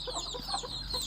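A brooding hen with chicks clucks softly and intermittently on a poultry farm, faint and close against a low background hiss.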